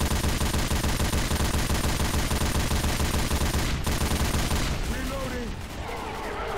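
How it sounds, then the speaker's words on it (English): A mounted heavy machine gun in the video game Left 4 Dead 2 fires a loud, continuous rapid stream of shots for several seconds, then cuts off and leaves quieter game sounds. "There's a mounted MG over here"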